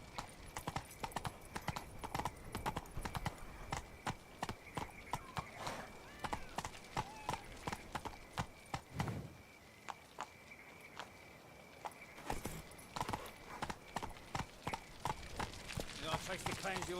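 Hooves of the horse in The Witcher 3 video game, a steady clip-clop rhythm of repeated hoofbeats at an even pace, fairly quiet, with game sounds in the background.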